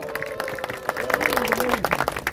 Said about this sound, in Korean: 열심히 일해주신 시장님과 우리 직원님들에게 박수 한번 주시기 바라겠습니다